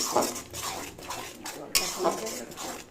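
A lid goes onto a cooking pan of spinach and paneer, making a few close metallic clanks and a brief rattle of cookware, moderately loud, against a faint kitchen background.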